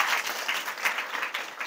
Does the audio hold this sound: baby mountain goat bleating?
no